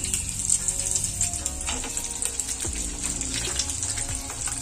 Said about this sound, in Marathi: छान असे हलक्या हाताने हलवून असे फ्राय करून घ्यायचे